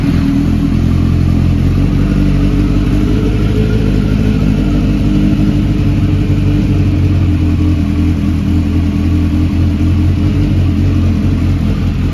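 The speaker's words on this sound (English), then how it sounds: "Give the bike a start up for you." 2008 Kawasaki Ninja ZX10R superbike engine running steadily close by, a loud continuous idle hum with no talk.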